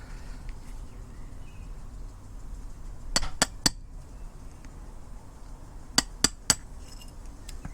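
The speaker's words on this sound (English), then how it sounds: "Just going to give this a gentle tap down with a hammer and remove the mesh" A hammer taps a metal drift to knock the mesh out of a snow foam lance: two sets of three sharp, bright metallic clinks a few seconds apart, close by, over a low steady room hum.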